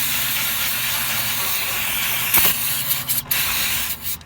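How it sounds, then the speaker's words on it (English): Brake cleaner sprayed onto the rear brakes of a Mustang GT: a steady aerosol hiss, then sharper bursts with short gaps as the spray is pulsed near the microphone, with no talking. "put some brake cleaner over here just to clean all this stuff"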